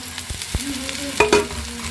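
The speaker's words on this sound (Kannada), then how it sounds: "ಉಳ್ಳಾಗಡ್ಡಿ ಮೆಣಸಿನ್ಕಾಯಿ ಚಲೋ ತಂಗ ಫ್ರೈ ಆದವ್ರಿ" Onions and green chillies frying in a pan for a North Karnataka karchikai dish, a steady close sizzle with a few sharp utensil knocks and scrapes, no talking.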